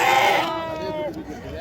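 Young sheep lambs bleat at the Natrampalli goat market, one drawn-out wavering cry close by, mixed with a voice and market noise.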